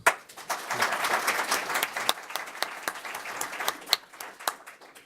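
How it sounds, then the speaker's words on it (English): Audience at a municipal court candidate forum applauding, a dense patter of many hands clapping at moderate volume, steady and fading slightly toward the end, heard alone. "Let us thank both candidates with our applause."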